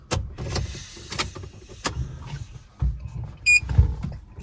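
Car power windows being lowered inside a hot parked car, short motor whirs and mechanical clunks separated by pauses, close and fairly loud, with a brief electronic beep near the end.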